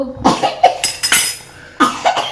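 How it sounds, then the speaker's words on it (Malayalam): A person coughs several times in a kitchen while cooking a mackerel curry, giving loud, close, harsh bursts in two clusters separated by a short pause. "ഇങ്ങനൊരു ചുമ"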